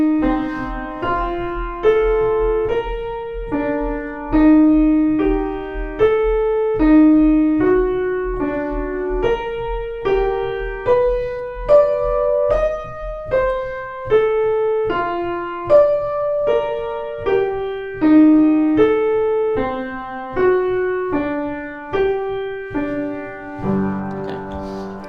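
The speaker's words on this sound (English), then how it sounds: "which is to just play minims on every single bar" Steady jazz chords struck on each bar and held as minims, two beats apiece, moving smoothly through the changes of a jazz standard in an even, unhurried pulse, with no voices.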